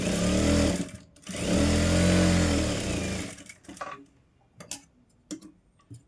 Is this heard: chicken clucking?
no